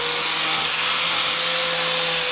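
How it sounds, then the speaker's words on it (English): Sandpaper rubs steadily against a roll cage swing-out bar, a continuous close scratching hiss with no pauses. "Now you need some sandpaper and clean the outside out"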